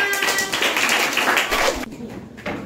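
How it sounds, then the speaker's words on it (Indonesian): Classroom applause after a group presentation, a dense patter of many hands clapping close by for almost two seconds, then breaking off into quiet with a few stray claps. "Tepuk tangan."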